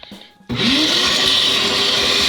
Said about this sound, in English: turn the shop back on and suck out those bristles as quickly as possible